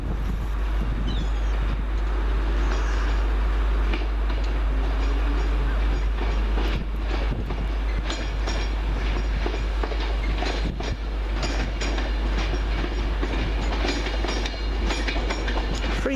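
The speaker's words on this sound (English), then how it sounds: "the next train in will be the 1447 Virgin Trains West Coast service from London Euston to Glasgow Central" Virgin Trains West Coast Pendolino passenger train on the London Euston to Glasgow Central service pulling into Carlisle station, a steady loud rumble and clatter of wheels on rails with wind-like hiss throughout.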